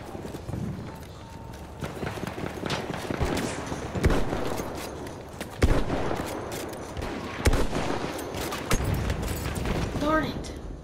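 Sniper rifle fire in the video game Battlefield 1: several sharp, widely spaced single shots crack over a constant battlefield din of hoofbeats and distant gunfire.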